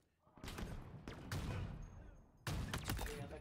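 Gunshots in Halo Infinite multiplayer: bursts of rapid weapon fire come in several dense volleys with brief gaps between them, the final burst loudest and closest, all fairly quiet overall.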